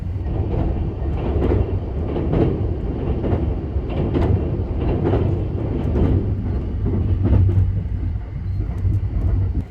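The Sunrise Seto sleeper train rolls along the track near the Tama River crossing at night, a continuous rumbling roar with periodic clattering bursts from the wheels, steady throughout with no talking.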